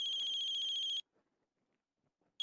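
A phone ringtone plays clearly for about a second as a bright, steady electronic tone, cuts off into near silence, then starts again briefly at the end.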